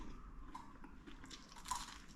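Quiet, close-up chewing of a frozen woodfired sweet chilli chicken pizza, with a few soft crunches as it is bitten, no talking.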